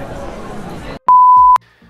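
A supermarket anti-theft gate alarm gives one clear, loud, steady electronic beep lasting about half a second, following a stretch of crowd chatter and shop murmur.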